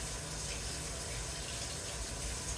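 Steady, full stream of water pouring from a tap, a constant rushing hiss with no pauses and no voices.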